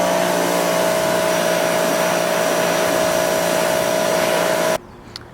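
A power washer spraying a car's rear wheel during a touchless wheel wash gives a loud, steady, close hiss with a constant hum that cuts off abruptly near the end, leaving near silence. No one speaks.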